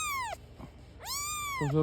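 A cat or kitten living in a military dugout lets out two drawn-out, rising-and-falling meows, close and fairly loud, with a short pause between them and a low background murmur underneath.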